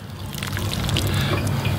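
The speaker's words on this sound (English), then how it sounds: "water your plant in real good." Water poured from a container onto a freshly planted Big Boy tomato transplant in garden soil, a steady close splashing and trickling into the dirt that holds for nearly two seconds with no talk.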